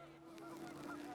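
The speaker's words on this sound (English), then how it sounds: "The wind picked up, and panicked geese appeared and quickly went" Panicked geese honking in rising wind before a storm, a few close, raspy honks overlapping in quick succession over a steady low hum.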